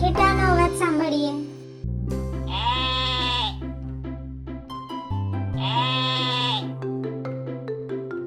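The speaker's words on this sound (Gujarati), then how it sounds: "ચાલો તો આપણે ઘેટાનો અવાજ સાંભળીએ" Sheep bleat in two long, loud wavering calls close by, separated by a low steady hum and a short earlier call.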